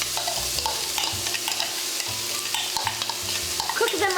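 Chopped onion stirred into 2 to 3 tablespoons of hot olive oil in a pot, with a steady close sizzle and frying hiss under the scrape and clatter of a spoon.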